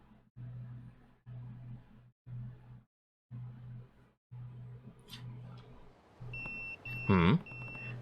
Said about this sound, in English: That's my beeper.